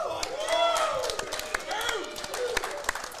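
At a pinball tournament's classics finals, the crowd cheers and whoops with rising and falling voices, mixed with scattered claps and a voice talking over the noise.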